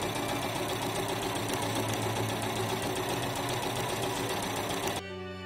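A sewing machine runs steadily, stitching the sleeve seams of a Regency spencer jacket, its close, continuous whirring hum lasting about five seconds before stopping abruptly.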